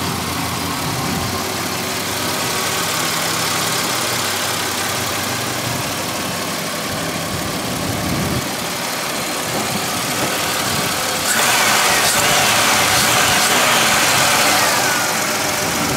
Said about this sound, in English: That's a healthy running engine.